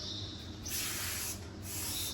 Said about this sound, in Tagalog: Ginagawa ko sa ganito, spray lang guys.